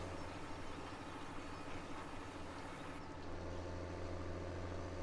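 A tractor engine idles steadily in Farming Simulator 17, a low continuous rumble with an even hum throughout, with no talking.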